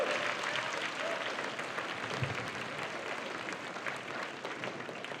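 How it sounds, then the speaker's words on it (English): Sustained applause from a high school assembly audience at a teacher of the year celebration, steady dense clapping throughout with a faint murmur of crowd noise. "Give Chad a round of applause"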